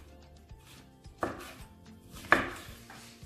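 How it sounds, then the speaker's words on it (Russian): A knife chops a zucchini into medium pieces on a board, giving two sharp cuts and several lighter taps, close and clear with no talking. "Разрезаем кабачок пополам и еще раз пополам. А далее вот такими кусочками средними."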